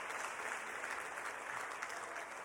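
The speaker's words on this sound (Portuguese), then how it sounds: "Vamos aplaudir o Senhor por essa vida." Church congregation applauding together during a worship service, a dense, steady wash of clapping hands that continues evenly through the whole moment without any voices rising above it.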